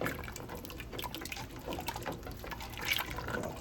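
Water being stirred in a pot on a stove for chicken foot soup, giving a steady sloshing, swishing liquid sound with small splashes, moderately loud and continuous, no talking.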